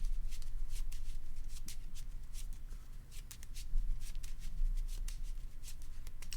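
Deck of cards shuffled during a Keyforge tabletop tournament match, a steady run of soft riffling flutters and snaps lasting several seconds, fairly quiet against low room rumble with no talk over it.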